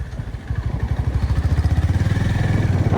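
A new Honda motorcycle being ridden gives a close, rhythmic engine thump that settles into a quick, even pulse and grows slightly stronger as it pulls away.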